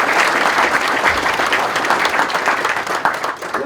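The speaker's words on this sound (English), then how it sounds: "we give him a round of applause" Steady, moderately loud applause from the audience at an academic breakfast, with dense clapping sustained throughout and no break.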